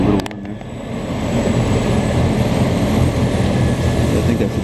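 Snow blower approaching along a Montreal street during snow removal, a loud, steady engine roar that swells slightly and holds at full strength, with a brief clatter at the start.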